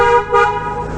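A car horn honks loud and close, a sustained toot with a brief dip before sounding again, heard on a scenic drive near Mount Rushmore.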